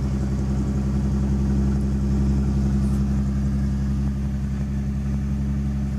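A Nissan 280Z engine idles steadily up close, a smooth low continuous drone with an even rumble and no voices over it.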